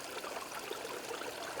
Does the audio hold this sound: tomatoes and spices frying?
no